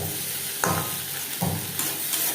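Stirring of a pot of vegetable khichuri with mung dal and boiled potato, a steady low sizzle with a few sharp scrapes and knocks of the spoon against the pot, close and alone.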